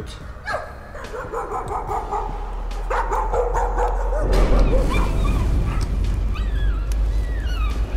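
A dog barks and yips repeatedly in the horror video game Layers of Fear, close and fairly loud over a steady low rumble of ambient game sound, with whimpery high calls toward the end.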